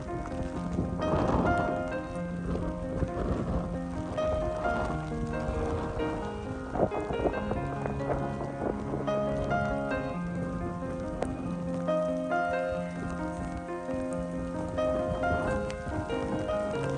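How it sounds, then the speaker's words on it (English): Heavy rain pours down hard on a farm, flooding the yard and waterways, a dense steady hiss of drops on surfaces lasting throughout at close range, with no talking. "This rain started coming down so hard"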